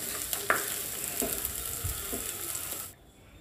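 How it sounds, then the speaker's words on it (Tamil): Steady sizzling as bitter gourd sautés in a pan, with a few stirring scrapes, then the sizzle drops away near the end. "இதை நம்ம நல்லா சுருளை வதக்கி விட்டுக்கலாங்க."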